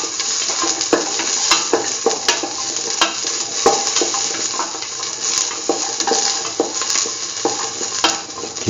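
Shallots sautéing in a pan for a curried green tomato coconut dip, with a constant close sizzle and frequent sharp clicks and scrapes of a utensil stirring against the pan, and no talking.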